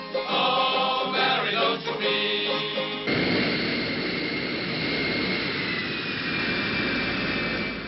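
Military combat jets of the Luftwaffe, the West German air force, roar past loud and close, a harsh broadband engine rush with a tonal whine that settles into a steady sustained roar with no talk.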